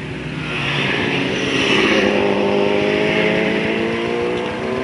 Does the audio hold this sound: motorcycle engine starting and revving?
yes